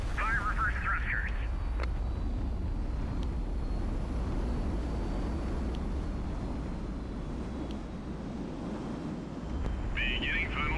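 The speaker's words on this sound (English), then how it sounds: "Fire reverse thrusters." Steady loud roar of reverse thrusters on a ship in the Highfleet video game, broad and continuous for the whole stretch, with short electronic warbling tones at the start and end.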